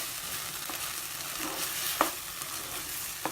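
Turnip and carrot bharta cooks in a pan with a soft, steady sizzle, broken by a few sharp scrapes and taps of a spoon as it is stirred.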